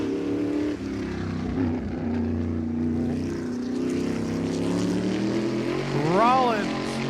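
The Ride More sponsored 02 hot rod drives a lap of Monadnock Speedway. Its engine roars steadily at mid distance with a layered buzzing tone, and it sweeps past with a quick pitch swing near the end.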